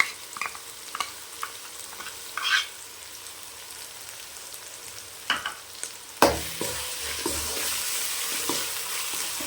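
Chili and coriander paste, roasted and ground, hits a pan and is stirred for a country chicken curry. There are scattered scrapes first, then a loud burst of sizzle that settles into steady frying.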